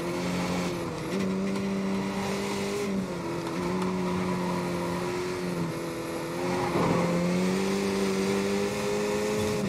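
A Skip Barber race car in iRacing lapping Bathurst, its engine droning steadily at high revs close up, with brief shifts in pitch as it changes gear and brakes through corners.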